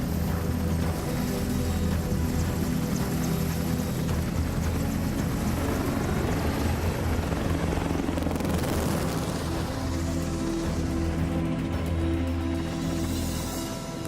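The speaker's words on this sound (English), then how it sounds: "father of the helicopter, Leonardo da Vinci, would love to fly this helicopter" An EH-101 helicopter's deep rotor thump and turbine whine drone loudly and steadily overhead, shifting slightly in pitch as it flies.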